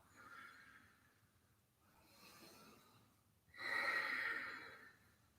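Audible breathing during a yoga movement practice: a soft breath, a second slightly fuller one, then a louder, forceful exhale, close to the microphone with no talking.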